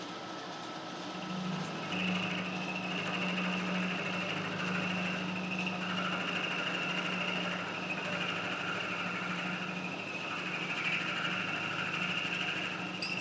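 A milling machine cutting a bolt hole pattern in an adapter flange for a capstan, giving a steady, even mechanical hum with a faint whine that holds throughout without speech.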